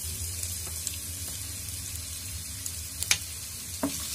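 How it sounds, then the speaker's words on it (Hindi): Onions frying in hot oil in a pan for aloo paratha, giving a steady low sizzle with a few soft clicks of stirring, fairly quiet and close, with no talking. "इसमें हम तेल डाल दिए हैं, ये गर्म हो गया। हम इसमें प्याज ऐड कर देते हैं"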